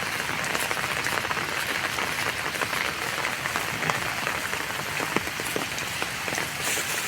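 Steady rain falls outdoors on a wet, mossy path, a dense even hiss that stays constant and close throughout with no voices.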